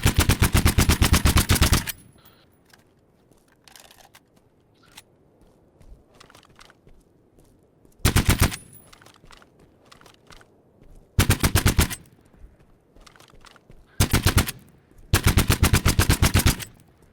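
A Scar rifle in a video game fires loud rapid automatic bursts, several of them spread across the clip, with quieter footsteps and movement sounds between volleys.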